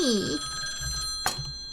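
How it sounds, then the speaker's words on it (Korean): A telephone rings faintly in a horror video game, as a thin sustained electronic tone over soft background thumps and a brief sharp click. No one speaks over it. "왜 전화 와요?"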